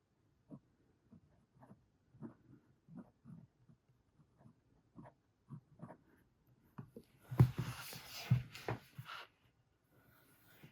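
Platinum Izumo fountain pen with a hard gold nib writing on paper: soft, faint scratchy strokes in an irregular rhythm close up, and a louder rustle of movement toward the end.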